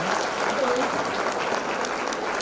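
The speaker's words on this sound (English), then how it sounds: "I request everyone to raise an applaud" An audience at a public function applauds: dense, even clapping from a crowd holds steady and fairly loud throughout.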